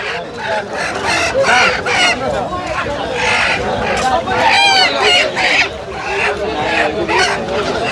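Roosters crow and chickens cluck in a busy rural poultry market in Bangladesh, with people talking throughout and loud, overlapping calls close by.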